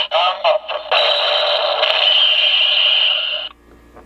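A Kamen Rider Blade DX Blay Buckle toy belt plays its electronic transformation sound effect, a loud, bright, steady tone sustained for about three seconds after a few short clicks and bursts, then cutting off abruptly.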